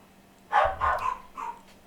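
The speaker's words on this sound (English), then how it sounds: "I hope you can't hear my dogs barking" Dogs bark indoors at a distance, one loud pair of barks followed by a quieter yip, in a home around mail delivery time.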